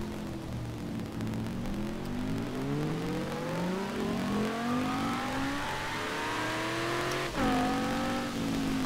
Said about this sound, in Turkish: Hay turbo sesi.